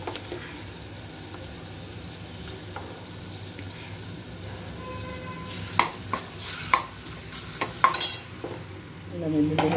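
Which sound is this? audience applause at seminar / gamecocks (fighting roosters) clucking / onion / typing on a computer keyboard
onion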